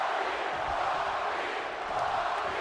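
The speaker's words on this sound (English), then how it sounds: "this crowd tonight are feeling the love and feeling the love for The Rock" Arena crowd in the WWE 2K25 wrestling game roaring in a steady, sustained wash of cheering, loud and continuous with no clear individual voices.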